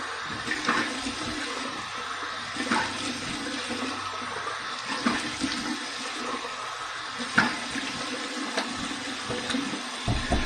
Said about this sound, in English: let's turn on this cold water and let's do a cold water rinse